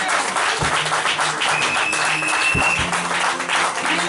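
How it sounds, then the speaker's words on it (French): A church congregation at a women's seminar bursts into sustained, dense applause acclaiming the Lord, a full round of clapping that carries on steadily without a break. "Est-ce que nous pouvons acclamer pour notre Seigneur bien-aimé?"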